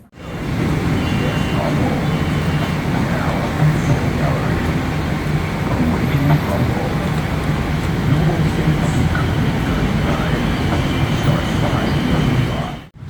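Bangkok BTS Skytrain car in motion during the morning rush, a loud continuous low rumble and rattle of wheels on the elevated track, steady throughout with faint voices mixed in.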